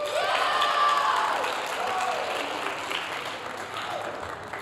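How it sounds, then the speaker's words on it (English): Audience applause at a Mr. MHS school pageant, a full round of clapping and some cheering from the crowd that is loudest at first, then gradually thins out over several seconds. "Let's give one more round of applause for those boys in their interviews."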